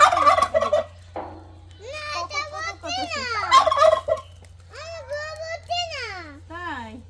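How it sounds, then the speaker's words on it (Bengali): Two large hens clucking loudly and close by, with repeated rising and falling squawks in uneven bursts and short pauses between them. "এই যে এই দুটো মুরগি কিনছে"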